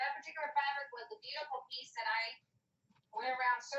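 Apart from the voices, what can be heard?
No everyday noise stands out behind the speech.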